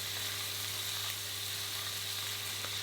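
Mixed ingredients with chili sauce and doubanjiang bean paste fry in a hot wok for chicken feet in black bean sauce, a loud continuous close sizzle with a steady low hum underneath.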